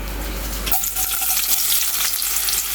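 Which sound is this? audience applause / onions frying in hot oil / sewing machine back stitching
onions frying in hot oil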